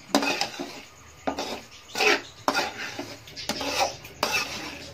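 Metal spoon scraping and stirring semolina as it roasts in a pan, several bursts of clinking and scraping in an uneven rhythm, close by with no talk.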